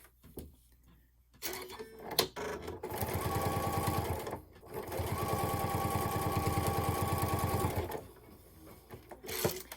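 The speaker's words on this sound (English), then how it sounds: "And then you just want to stitch through all layers." A sewing machine runs through several layers of fabric, backing and Pellon, in two long, steady bursts of rapid needle chatter, near and loud, with brief pauses and handling clicks between.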